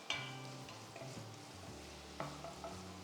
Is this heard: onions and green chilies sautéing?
yes